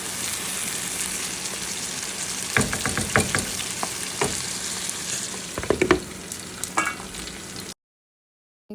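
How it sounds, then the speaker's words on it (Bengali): Eggplant shukto curry in a pan, a loud, continuous sizzle and frying hiss after water goes in, with scattered stirring clinks and scrapes before it cuts to silence. "এখন আমি একটু জল দিয়ে দেবো বেশি দেবো না সামান্য একটু জল দিয়ে দেবো"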